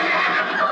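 A horse gives a short, loud whinny, a single brief neigh heard close and alone.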